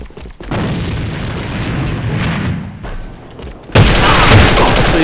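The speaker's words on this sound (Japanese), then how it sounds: "手榴弾を使うぞ。" Grenade blast in the online shooter game AVA, a heavy booming roar with rumbling gunfire around it, loud and close, followed by another abrupt burst of noise.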